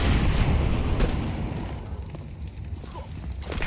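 A stack of grenades detonating in Counter-Strike, a heavy booming blast at the outset that rolls and decays into a low rumble over several seconds.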